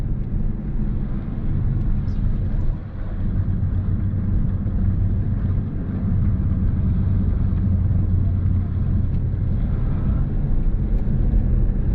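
A Tesla Model S P90D driven hard at its drift limits, heard from inside as a steady, loud low road and motor rumble that holds throughout, with no speech.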